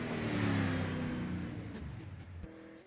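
Race cars in the iRacing sim during qualifying for an outlaw super series, a loud engine drone that roars then gradually fades as a car passes and pulls away.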